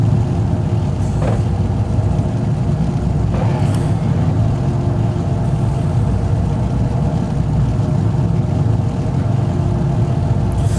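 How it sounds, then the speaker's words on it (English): GT3 race cars idling and revving on the grid at Mid Ohio in the iRacing sim, a dense steady engine drone with a few brief higher rev blips, continuous and loud. "as you can hear the guys trying to get their cars into gear here"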